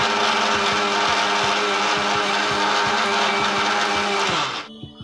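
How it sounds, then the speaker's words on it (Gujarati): Kitchen blender crushing guava with water for juice, a loud continuous motor whir with rattling contents that runs steadily, then winds down and stops near the end. "હવે આપણે થોડું પાણી નાખીને ક્રશ કરી લેશું."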